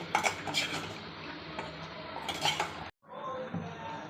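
Cooked plantain puttu being moved into another vessel, with close clinks and scrapes of a spoon against metal pots, a short pause, then more clattering handling.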